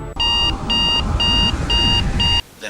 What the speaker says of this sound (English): like an evil alarm clock